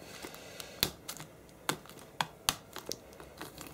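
A pen cuts into the plastic wrap on a Mac mini box, giving a series of sharp, close crinkling snaps and tears spaced irregularly, with no talking.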